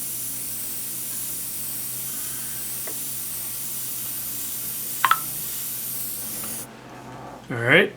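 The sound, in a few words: spray gun spraying paint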